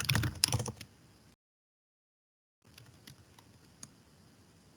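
Keys clack on a computer keyboard while a git user name and email are entered, a quick burst of close, fairly loud typing followed by a pause and then lighter, sparser keystrokes.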